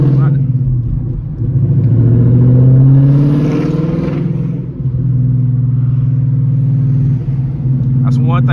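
Loud engine drone from a manual-transmission Ford with a third-generation Coyote V8 and full bolt-ons, rising and falling as it revs and shifts while driving through the city, with someone talking over the rumble.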